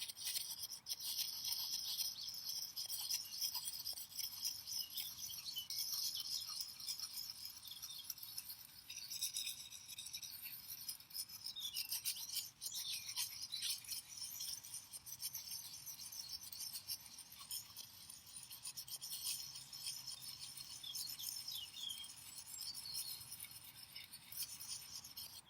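A knife blade drawn repeatedly across a round sharpening stone outdoors at a forest school, giving a steady, continuous gritty scraping and rasping with faint clinks, close and fairly quiet throughout.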